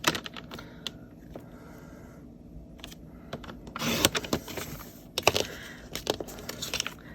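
Cardstock cut on a paper trimmer for a card, with a series of close clicks, slides and rustles as the paper is positioned and the blade runs through, fairly quiet and irregular.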